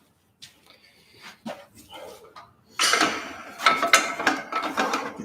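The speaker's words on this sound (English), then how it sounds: "Get this bicycle out of the way." Bicycle being wheeled aside, its freewheel ratchet ticking in rapid bursts, with scuffs and knocks that grow louder and busier partway through, close by.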